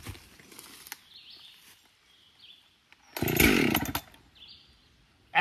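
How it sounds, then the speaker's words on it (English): A chainsaw roars to life in a short loud burst between quieter stretches of outdoor background, with another sharp burst at the very end. "Says the guy starting a chainsaw with no chaps."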